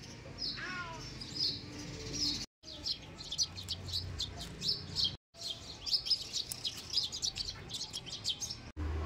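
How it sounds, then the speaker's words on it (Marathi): Birds chirp and tweet through the morning air in a rural setting, with busy high calls throughout, a few brief gaps of silence, and some low background rumble. "सकाळची सुरुवात ही सुमधुर पक्ष्यांच्या चिवचिवाटपासून झालेली आहे"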